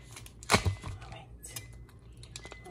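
A knife cuts into the plastic packaging of vegan hamburger patties, with one sharp crackling rip followed by softer rustles and small clicks, close and fairly quiet.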